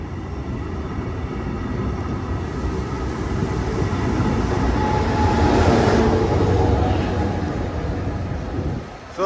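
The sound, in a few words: Brightline passenger train at Boca Raton station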